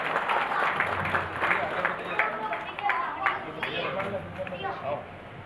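Clapping from a crowd at a Saraswati puja ceremony held by a village milk cooperative society for its bonus event, a steady dense patter that runs the whole time under people talking.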